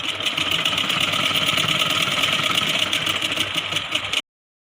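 Sewing machine stitching a Rajputi suit kanchali, running in a steady, continuous mechanical whir with a fast rhythmic needle beat, close and loud, stopping abruptly near the end.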